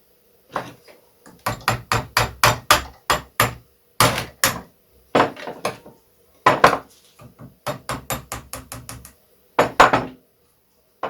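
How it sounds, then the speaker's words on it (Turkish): Repeated sharp metallic hammer strikes on a nail in irregular bursts, close and loud, with brief pauses between groups of blows, driving out a brake pin on an As 250 Doç. "Bir çivi ve çekiç."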